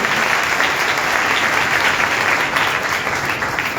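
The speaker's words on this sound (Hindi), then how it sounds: "आइए हम अपने खुदावंद के लिए बहुत सी भरपूर तालियां बजाएं।" Worshippers at a live church service clap in loud, sustained applause, a thick, even roar of many hands close by that holds throughout.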